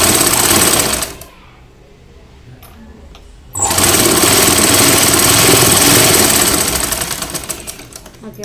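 A sewing machine stitching a plain blouse, a loud, close, fast motor-driven rattle that stops for a couple of seconds, then resumes and runs steadily before slowing toward the end.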